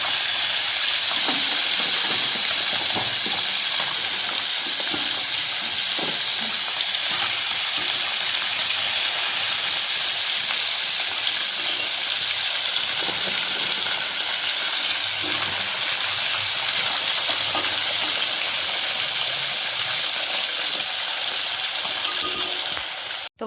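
Fish frying in hot oil gives a loud, continuous broadband hiss and crackle that holds steady for the whole stretch and ends abruptly. No voices can be heard.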